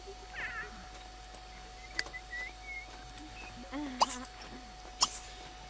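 Kittens in The Sims 3 meow in short, high, wavering calls, a few scattered cries spaced across several seconds with light game sounds and faint background between them.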